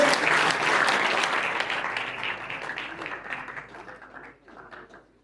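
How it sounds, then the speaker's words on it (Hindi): An auditorium audience gives loud, sustained applause welcoming a guest, Padma Shri awardee Yogeshwar Dutt, the clapping thick at first and then gradually thinning and fading toward the end. "एक बार जोरदार तालियों के साथ इनका स्वागत करेंगे"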